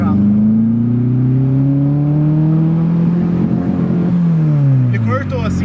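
Naturally aspirated Chevrolet Monza engine revving hard under load while driving, a loud steady drone rising in pitch and then dropping off as the throttle lifts near the end.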